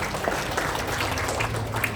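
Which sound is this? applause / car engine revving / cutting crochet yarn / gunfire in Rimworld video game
applause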